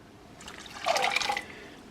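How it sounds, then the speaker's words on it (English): Water poured into a pot of garden pea and carrot soup made from fresh-picked vegetables, a brief splashing pour swelling for about half a second and trailing off, close and fairly quiet. "so I'm going to add in 8 ounces of water."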